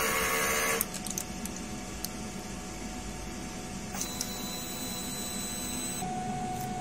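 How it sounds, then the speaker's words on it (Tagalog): A DTF printer runs a strong head-clean cycle with a steady mechanical whir and a few short clicks and bleeps, then the pitch of the motor shifts near the end. "Cupping area, mag-head clean naman tayo. Pindutin natin ang clean, strong heads."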